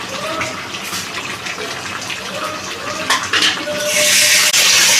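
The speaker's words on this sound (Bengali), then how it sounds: "মিক্সি ধোয়া জলটাও দিয়ে দিলাম।" Blender rinse water poured into a cooking pan of chicken patiala with cashew paste, a close splashing gush that swells louder and fuller toward the end.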